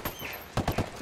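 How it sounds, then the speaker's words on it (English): Gunfire in the Ghost Recon video game, a short burst of about three loud shots clustered near the end of a brief, otherwise quiet stretch. "Opening fire."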